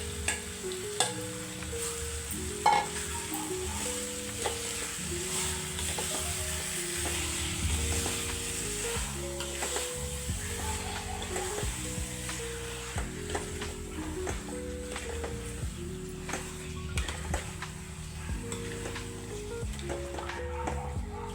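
Marinated chicken sizzling steadily in a pan for a home-style chicken curry, with a constant frying hiss, occasional stirring clatter and a repeating mechanical background pattern throughout.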